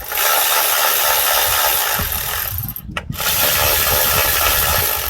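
Ratchet wrench tightening glow plugs on a 2008 Isuzu NPR diesel truck, a loud, close, continuous rapid clicking that pauses briefly midway, then resumes steadily.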